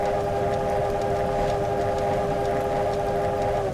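Steam whistle of a USATC S160 locomotive on the West Somerset Railway in Train Simulator 2018, one steady, loud, chord-like blast held for nearly four seconds over the rumble of the train.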